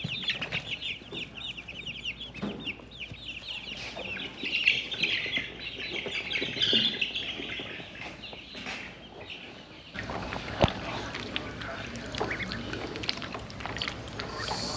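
Young chicks, including buff Orpington, Delaware, Easter Egger and blue lace gold Wyandotte birds along with ducklings, peep and cluck continuously in a brooder, a busy chorus heard up close with no talk.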